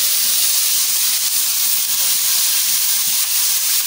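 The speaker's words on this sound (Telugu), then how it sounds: "ఇది ఆయిల్లో వేసుకొని పచ్చి వాసన పోయేదాకా వేపుకోవాలి." Grated carrot frying in hot oil gives a loud, continuous hiss and sizzle that holds steady throughout without pause.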